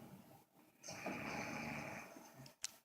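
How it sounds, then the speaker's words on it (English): A sleeping man snores with one long, loud, buzzing rattle of breath, close to the microphone, preceded by quieter breathing and followed by a brief click. "He snores like a beast,"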